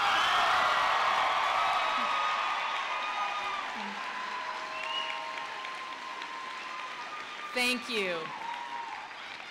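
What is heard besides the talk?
applause for graduating class at high school graduation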